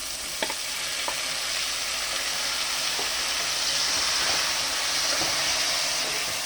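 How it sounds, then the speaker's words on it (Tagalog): Chopped tomatoes sauté in a hot pan with a steady, dense sizzle throughout, a few light utensil scrapes and taps punctuating it, close and unbroken by speech. "gisa na rin tuloy natin itong kamatis"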